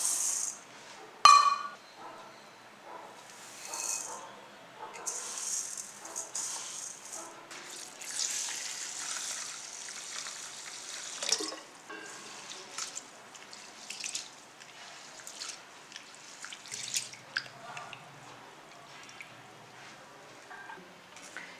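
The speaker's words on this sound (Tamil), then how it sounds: "இப்போ அரிசியும் பாசிப்பருப்பையும் போட்டு நல்லா கழுவிக்கலாம்" Raw rice and moong dal are washed in water: wet grains rattle and swish against a vessel with scattered drips and splashes, irregular and close, with no talking.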